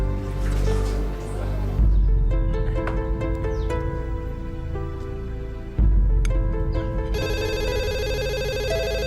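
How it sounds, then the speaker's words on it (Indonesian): Telephone ringtone in an Indonesian drama scene, a bright repeating electronic ring that grows louder near the end, heard over a steady music bed with no talking. "Saya terima telepon dulu."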